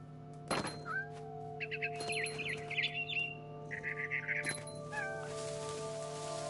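A barn swallow chirps in the video game What Remains of Edith Finch, giving clusters of short high twittering calls over a constant low ambient drone, punctuated by a few soft thumps.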